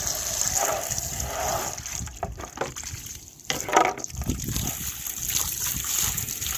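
Water is poured and splashes into animals' drinking containers in a tropical garden, a soft trickle and splatter with a louder splash midway, faint and outdoors.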